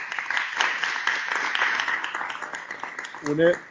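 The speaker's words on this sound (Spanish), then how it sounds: "Creo que merece un aplauso del auditorio" An auditorium audience applauds after a pediatrician's talk on measles, a steady, moderately loud patter of many hands clapping, with a brief voice breaking in near the end.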